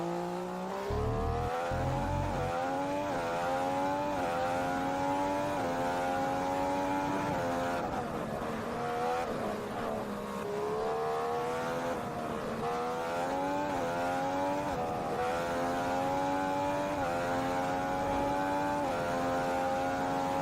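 An F1 race car engine running a rich fuel mix in the F1 2015 video game howls continuously at high revs, its pitch rising and dipping through repeated gear shifts, loud and steady throughout.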